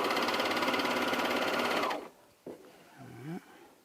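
A Juki MO2000QVP serger overlocker stitching and trimming fabric, running in a fast, steady whir for about two seconds before stopping, then a few faint handling noises.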